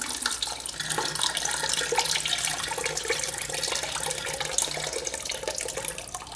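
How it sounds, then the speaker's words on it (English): Radiator fluid drains from the engine and a hose of a 2007 Suzuki RM85 dirt bike, a steady close splashing trickle of liquid that runs without a break the whole time, with no talking. "this is draining out of both places, the hose itself and the engine"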